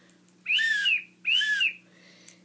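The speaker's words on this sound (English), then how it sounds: "When you blow the whistle," A whistle blown twice in quick succession, two sharp, loud, warbling blasts close by, each about half a second long.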